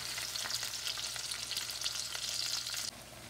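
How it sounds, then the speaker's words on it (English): Chopped onion fries in hot oil over medium-high heat for vegetable fried rice, a steady close bright sizzle with faint stirring scrapes, then the hiss drops a little near the end. "Fry onion in hot oil, fry for 4 to 5 minutes on medium high."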